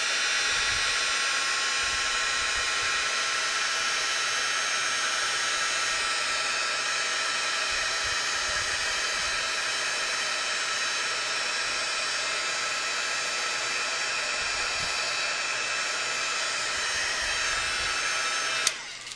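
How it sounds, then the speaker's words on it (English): Embossing heat gun blowing steadily to melt clear embossing powder on stamped images, a loud constant whooshing hiss that holds evenly for nearly twenty seconds before cutting off abruptly near the end. "Then you're going to grab your embossing gun."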